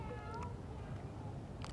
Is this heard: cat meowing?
yes